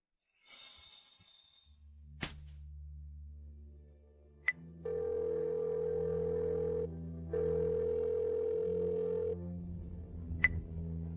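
Telephone line tones on a call that will not connect: a few dial clicks and a ringing beep, then steady, loud, flat busy-signal tones in two long stretches, alone without speech.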